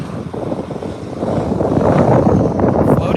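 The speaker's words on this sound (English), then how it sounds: "Touching down nice and firmly on 24 right." A Southwest Boeing 737-700 arriving from Phoenix touches down on runway 24R at LAX, its engine roar rising into a steady loud rumble with wind buffeting the microphone, and no talk over it.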